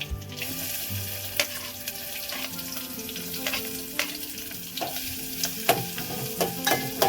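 Onion frying in hot oil with curry leaves and chillies: a close, continuous sizzle broken by scraping stirs and small clinks of a spoon against the pan.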